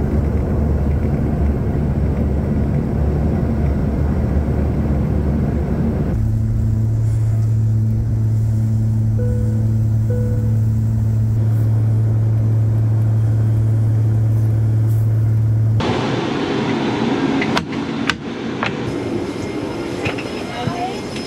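Airplane cabin noise on a roughly hour-long flight to King Salmon, Alaska: a constant loud engine drone and low rumble with a steady tonal hum, then shifting as the sound changes, with talk over it.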